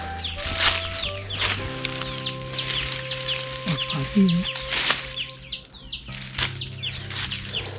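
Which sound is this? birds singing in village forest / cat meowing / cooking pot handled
birds singing in village forest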